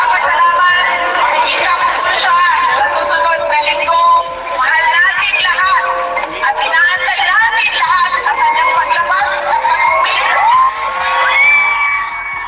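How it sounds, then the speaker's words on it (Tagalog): A large crowd shouts, whoops and cheers loudly and continuously, with overlapping voices rising and falling in waves throughout. "Hiyawan."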